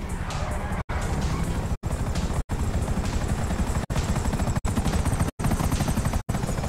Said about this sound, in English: Gray, another chopper.